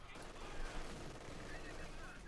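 Dense heavy machine gun fire from a Company of Heroes 2 battle, German Grenadiers and heavy machine gun teams shooting in a steady, unbroken rattle of bursts that runs loud and close for the whole stretch.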